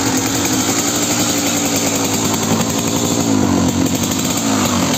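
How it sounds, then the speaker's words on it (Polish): A Kawasaki KDX 200 two-stroke motorcycle engine runs steadily nearby, a loud, continuous buzzing drone with a rapid rattling pulse and slight variations in revs, with no voices. "Ładnie teraz pracuje silnik."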